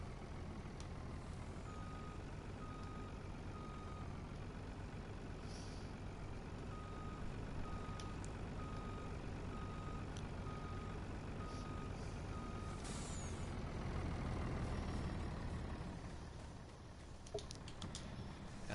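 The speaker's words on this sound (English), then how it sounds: "I'll just pull this truck around and get it facing the right direction here at least" A truck in Farming Simulator 19 backs up with a steady series of evenly spaced reversing beeps over a low engine hum, with a faint hiss near the end.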